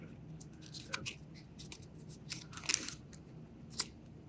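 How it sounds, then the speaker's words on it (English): Paper being folded and creased for origami: soft crinkles and a few sharper crisp presses, close and quiet, in scattered bursts. "And I'm going to fold the open edge over like that. And I'm going to crease it."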